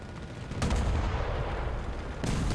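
Cannon fire from an Abrams XM-1 prototype tank in a video game: two sharp heavy blasts spaced about a second and a half apart, each followed by a deep rolling rumble, loud and close.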